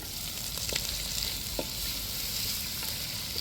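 Onions fry in a pan for prawn pulao, a steady close sizzle broken by a few soft stirring scrapes, with no voices.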